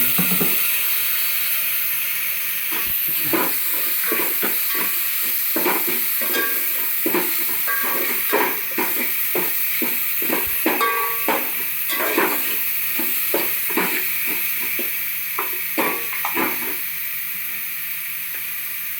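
Chicken pieces sizzling in a pan for Telangana-style homemade curry, a steady frying hiss under repeated scraping and clacking strokes as a spoon stirs them, continuous and close throughout.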